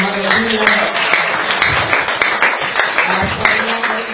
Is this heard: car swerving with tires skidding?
no